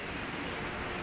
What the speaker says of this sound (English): The wind's blowing out of the west.